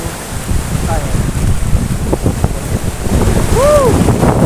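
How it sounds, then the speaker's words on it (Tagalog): Strong ocean waves breaking at a beach in Paniman, Cavite, a steady loud surf roar with heavy wind buffeting the microphone throughout, and faint voices in the background. "Lumalakas yung alon guys."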